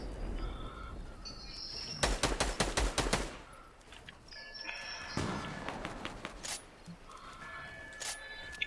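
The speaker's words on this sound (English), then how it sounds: "Yeah, we're getting shot at." Bursts of rapid automatic gunfire sound from a video game battle, with a dense volley near the start and shorter bursts later, set against faint bird chirps in the game's background.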